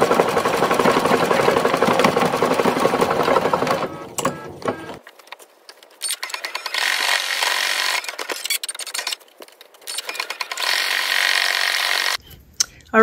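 Embroidery machine stitching faux chenille yarn letters runs in a loud, steady mechanical whir, with short pauses and restarts partway through and a brief stop near the end.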